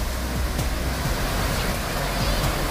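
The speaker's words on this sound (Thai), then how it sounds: "เราก็มาถึงน้ำตกตาดคู่แล้วเดี๋ยวเราไปดูน้ำตกกันเลย" Tad Ku waterfall on the Bolaven Plateau in southern Laos gives a steady, full rushing roar of falling water that holds constant throughout, with no breaks or distinct splashes.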